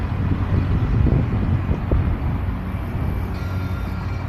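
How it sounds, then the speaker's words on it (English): Wind blows hard across the microphone outdoors at a kite-flying field, a loud, continuous rumbling buffet with gusty swells, heard alone without talk. "we got some wind"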